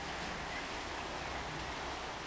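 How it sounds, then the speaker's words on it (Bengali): Steady, dense hiss of heavy rain pouring down, constant and unbroken with no gaps, filling the whole stretch without any voices. "বৃষ্টি জোরে লাগতেছে।"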